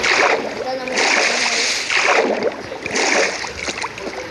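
Swimming in the video game Minecraft produces rhythmic, fairly loud water splashes, about one stroke per second, under a voice talking throughout.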